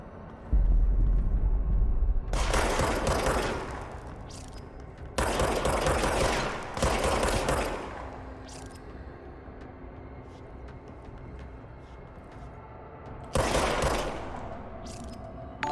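Loud bursts of automatic gunfire in the video game Control, several rapid volleys separated by quieter stretches, with no voices over them.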